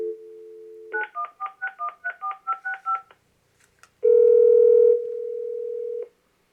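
A dial tone gives way to a rapid string of about ten touch-tone keypad beeps, then a pause and a loud steady network tone that drops in level before cutting off, with no voices.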